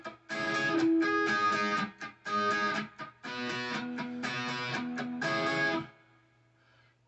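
Distorted electric guitar plays a section of a solo in bursts of quick lead notes, then stops and leaves a faint hum.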